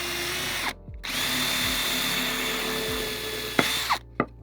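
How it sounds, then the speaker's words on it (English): A power drill whirs steadily at close range drilling a pilot hole for a screw, stopping and restarting, with brief spin-down whines between runs. "So you drill the hole."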